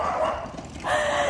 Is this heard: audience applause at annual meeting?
no